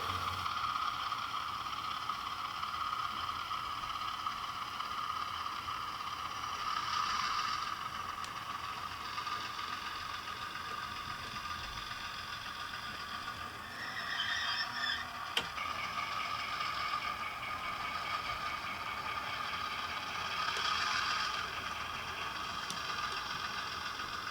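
A small Rapido GMD1 model locomotive's sound unit hums and chugs steadily at low volume, with faint mechanical whirring and occasional clicks throughout.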